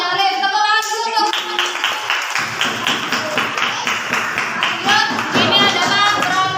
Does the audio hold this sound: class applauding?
yes